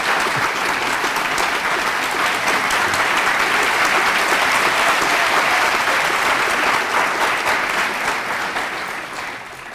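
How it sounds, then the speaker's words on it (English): A seated audience at an engineering conversation event gives sustained, dense applause to welcome guests, loud and even throughout before tapering slightly at the end. "Let's give them a round of applause,"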